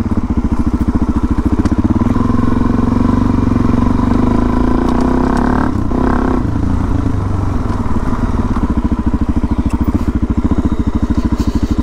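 Off-road motorcycle fitted with supermoto tires, ridden at a gentle pace on a private trail; its engine drones steadily and loud for the whole stretch, with a brief clatter or thump midway and no talking.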